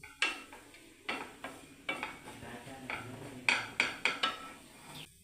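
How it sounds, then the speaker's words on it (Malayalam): Grated coconut roasting in a hot pan until lightly brown, stirred with a spoon in a steady series of scraping clinks against the metal pan over a faint sizzle, close up and without voices. "നന്നായിട്ട് നമുക്കൊന്ന് വറുക്കാം. വറുത്ത ചെറിയൊരു ബ്രൗൺ കളറാവണം."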